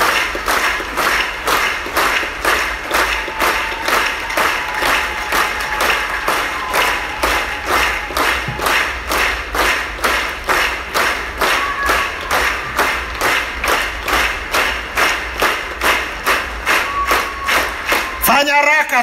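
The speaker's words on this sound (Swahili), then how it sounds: "ongeza makofi kwa Roho Mtakatifu" A church congregation claps in unison during a service, loud rhythmic beats repeating steadily for about eighteen seconds, with voices heard underneath.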